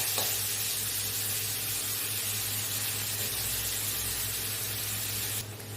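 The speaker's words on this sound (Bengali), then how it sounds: "এরপর আমি এতে দেবো টমেটো কুচি আর লঙ্কা কুচি দিয়ে এটাকে আমি ভালো করে ভেজে নেব।" Chopped tomato and green chilli fry in a pan with a soft, even hiss of steam and sizzle that holds steady, then thins out near the end.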